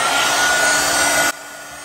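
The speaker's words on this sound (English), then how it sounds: "let me try my heat gun again." A heat gun blows on resin with a steady, loud whooshing roar that cuts off abruptly near the end, leaving faint room hiss.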